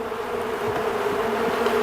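Honey bees buzz steadily and densely throughout, a close, continuous drone from an opened hive during a spring inspection after a cold Texas winter.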